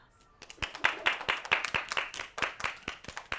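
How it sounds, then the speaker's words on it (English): A group of kindergarten children claps during a dance lesson, a quick, slightly uneven run of distinct hand claps rising after a quiet start and continuing for a few seconds. "Can we give them a big round of applause?"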